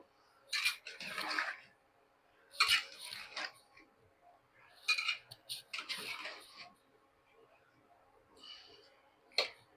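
Eggplant, potato and egg curry being stirred in a pan, giving several short bursts of clattering, scraping spoon-on-metal sounds separated by quiet pauses, close and fairly soft.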